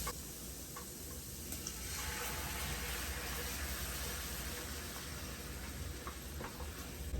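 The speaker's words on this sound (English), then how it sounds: "we do want to toast the garlic in order to get all of that fragrance from the garlic." Garlic toasting in a pan, a steady crackling sizzle that holds throughout at low, even volume, with faint clicks and stirring noises and no voices.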